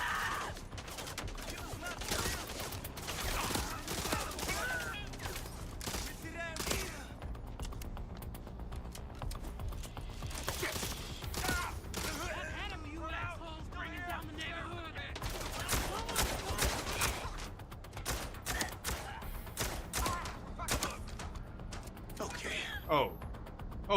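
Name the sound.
gunfire from a video game shooting gallery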